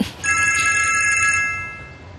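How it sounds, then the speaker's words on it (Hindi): A telephone rings with a bright electronic warbling trill for about a second, loud and close, then fades into quiet room tone. "एब्रू सिन्नानेर का फोन है।"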